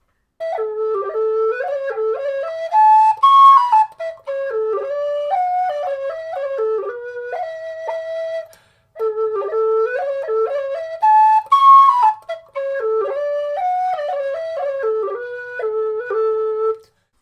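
A carbon Highland whistle with bagpipe fingering plays a lilting melody in clear, bright, slightly breathy notes, two similar phrases separated by a brief pause, solo and close.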